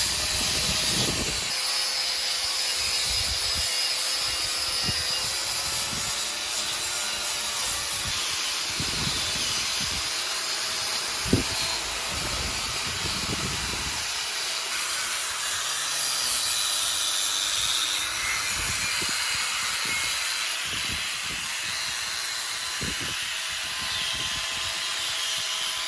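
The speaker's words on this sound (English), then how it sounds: "I'm grinding" An angle grinder works on metal parts for a Jeep J10 one-ton truck build, a continuous harsh hissing grind held close and steady for the full length, with faint intermittent knocks and no speech.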